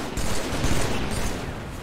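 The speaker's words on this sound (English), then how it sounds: "I got sniped from their sniper spot" Gunfire in a video game firefight, a dense burst of rapid shots with no voices over it.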